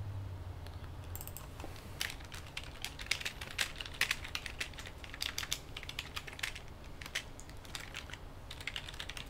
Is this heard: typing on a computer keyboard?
yes